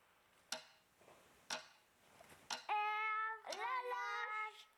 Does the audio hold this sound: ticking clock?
yes